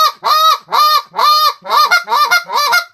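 A hunter's goose call imitates a single goose, giving seven honking, moaning notes in a steady rhythm, each one loud, close and clear, with nothing else heard.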